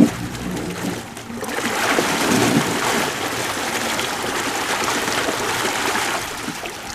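A dock-mounted lake mud blaster runs in the water, moving about 400 gallons per minute, giving a steady, moderately loud rushing and churning wash of water that holds without pause throughout, with no talk over it.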